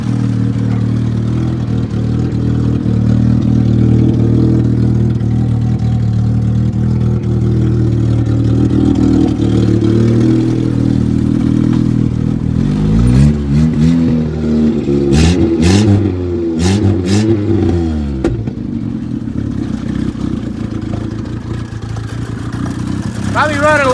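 A Toyota Wolverine's engine runs a little rich with a steady loud idle. Midway it wavers and revs up and down, and a voice talks over it.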